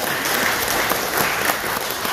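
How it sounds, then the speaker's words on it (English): Dense congregational applause fills a church during a Sunday Advent Mass, a steady broadband clapping that holds at a constant level for about two seconds with no voices above it. "We applaud for him who chose to be born into our midst"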